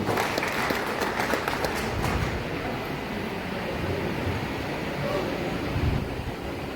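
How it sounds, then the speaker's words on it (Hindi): An audience at a school science exhibition award ceremony in Sikar, Rajasthan, gives loud, sustained applause, with crisp clapping early on that blends into a broad, roaring wash of crowd noise. "एक बार जोरदार तालियां सबके लिए"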